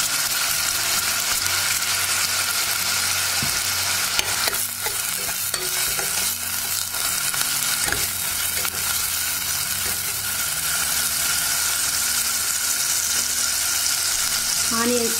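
Finely chopped green chillies and onions fry in a pan for chutney, giving a continuous loud sizzle. Irregular scraping and stirring knocks run through it and there is no talk.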